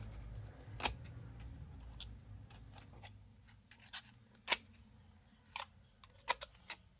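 Scissors snip paper strips for a craft charm rack, giving sharp isolated snips at an uneven pace over a quiet background.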